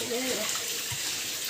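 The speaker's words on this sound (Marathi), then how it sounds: "तर इथून पाणी येतं आहे," Natural water flows down from a mountain in a steady, close rushing wash that fills the whole clip without a break.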